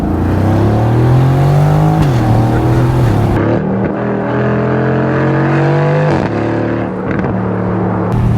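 A 2021 Aston Martin Vantage Roadster V8 sports car drives loudly, its engine drone rising and falling steadily through gear changes, close and dominant with no talk.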